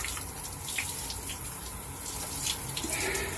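Water pouring steadily from an outdoor shower, a constant close hiss and splatter with no break.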